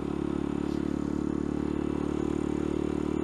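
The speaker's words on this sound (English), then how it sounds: "Bike still does 50 miles an hour with the sprocket combo." Honda Grom motorcycle riding at speed with aftermarket sprocket gearing, a steady close engine drone with a constant pitch and wind rush, no talk over it.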